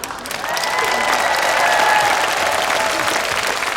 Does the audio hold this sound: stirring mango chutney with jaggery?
no